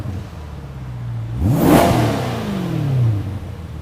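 A V8 car engine idles, then revs sharply up and quickly falls back down, loud and close, the pitch rising and dropping in one sweep, exhaust in silent mode.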